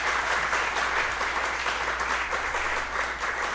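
A live podcast audience in Houston applauds, a dense, even roar of many clapping hands held steadily throughout, fairly close and without speech over it.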